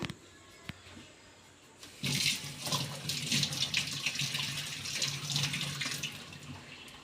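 Tap water starts running at about two seconds and streams steadily into a sink while four tomatoes are rinsed under it, a continuous close splashing wash with slight fluctuations.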